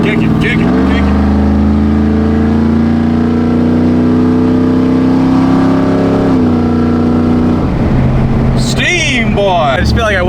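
LS-swapped OBS Ford truck engine revving, a loud, close, steady engine tone holding its pitch with a couple of brief shifts before dropping and wavering near the end, with people talking over it.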